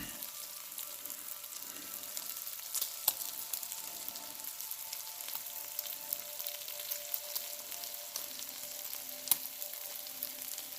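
Butcher Box bacon frying in a pan gives a soft, steady sizzle with scattered small pops and crackles, fairly quiet and close, with no talking over it.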